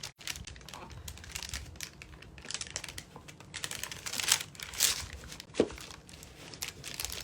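Dry crinkling and crackling of parchment paper being handled during a craft project making a lemon door hanger from a pizza pan, in irregular close bursts with a few sharper snaps, no talking.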